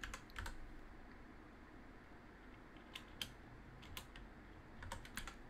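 Computer keyboard typing during setup of an AMD Ryzen OpenCore macOS Catalina bootable USB, soft scattered key clicks in short bursts over a low steady hum, fairly quiet and close, with no talking.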